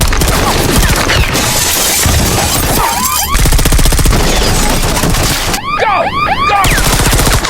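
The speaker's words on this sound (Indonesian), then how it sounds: "harus menghadapi rentetan tembakan dari warga dan anak buah wali kota di sepanjang perjalanan" Rapid volleys of gunfire rattle through a film action scene, dense machine-gun bursts with shattering and crashing impacts, loud and continuous across the whole stretch.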